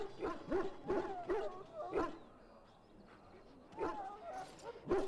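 Dogs bark repeatedly in a kennel in the video game Dragon Age: Origins, several sharp, loud barks in bursts with a quiet gap, while voices talk alongside them.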